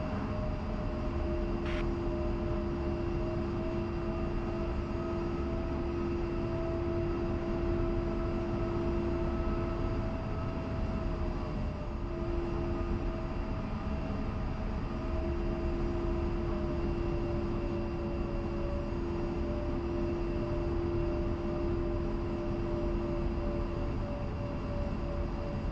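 An A-10C jet taxiing out in the DCS World flight simulator, a steady whining engine drone with a sustained high tone that holds evenly throughout, continuous and moderately loud with no voices.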